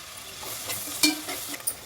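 Long-sliced onions and green chillies frying in a pan for dhaba-style chicken curry hiss steadily, with scraping stirs and clinks of a spoon against the pan throughout.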